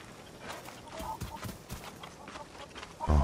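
Rooster clucking in the video game Far Cry 6, scattered soft clucks and rustling at moderate distance, with muffled hoof-like thuds mixed in and a louder burst at the end.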